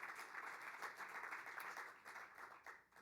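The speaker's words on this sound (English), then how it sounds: "Big round of applause for Ann Lesser" Audience at an Invest in Education event in Philadelphia applauding for an honoree, a faint but steady wash of many hands clapping that continues throughout without voices on top.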